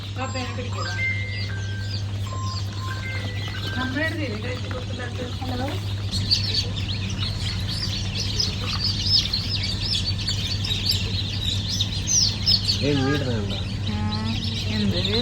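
Layer hen chicks chirp in many quick, high, overlapping peeps that run throughout, with people talking over them at times and a steady low hum beneath.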